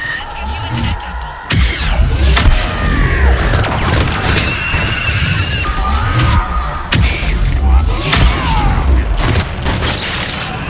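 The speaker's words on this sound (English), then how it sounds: "That's it for the missiles. Switching to the gun." Missile strikes and explosions in the Mass Effect video game boom and crash heavily and nearly continuously, layered with whooshing and mechanical rumble, loud and close throughout.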